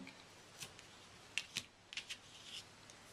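Scissors snip extra string off a handmade dream catcher, giving a few faint, close, sharp cuts spaced over a few seconds in a quiet room.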